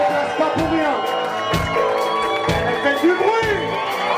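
An audience at a comedy-concert show in a Geneva tavern cheers, whoops and shouts together, a loud crowd roar with rhythmic bursts and voices calling out over it.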